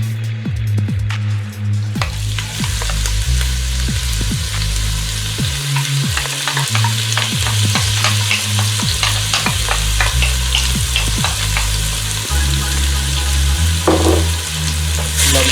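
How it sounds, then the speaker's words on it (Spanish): Red onion hits hot oil in a pan and fries with a loud, steady sizzle, broken by repeated scraping stirs of a utensil, with no voices. "Vamos a revisar nuestro aceite. Pues sí, ya está caliente. Es ahí donde vamos a agregar la cebolla roja."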